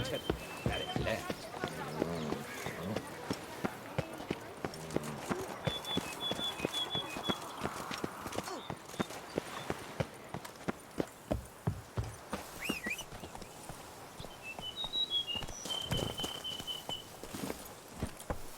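Roach the horse gallops through The Witcher 3: Blood and Wine, hooves clip-clopping in a fast, steady rhythm throughout, with in-game speech and ambient effects layered over the hoofbeats.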